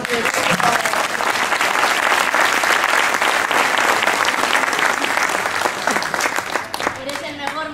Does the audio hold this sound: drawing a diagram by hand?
no